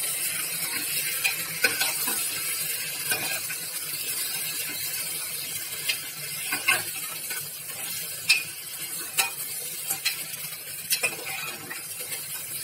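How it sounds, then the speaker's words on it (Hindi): Potatoes being added to a pot of vegetable soup and stirred in, a continuous sizzling hiss with repeated clicking and scraping of a spoon against the pot, close and steady, with no talk. "अब मैं इसमें आलू डाल रही हूँ,"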